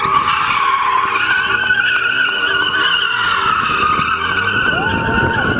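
Tires squeal and skid loudly as a large car's engine revs and maneuvers at a speed-maneuvering competition in Mogilev, continuous screeching with rising and falling pitch throughout.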